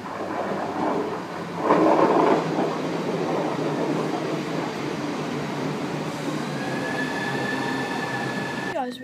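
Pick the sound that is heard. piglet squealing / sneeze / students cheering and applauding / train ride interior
train ride interior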